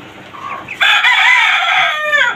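Caged chickens on a farm in Dhaka, with a rooster crowing loudly and close up in a long, wavering call after a short cluck, while other birds sound faintly behind it.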